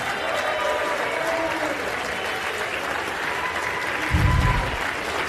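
Audience applause fills a chamber, a sustained wash of many hands clapping at an even level, with a brief low thump near the end.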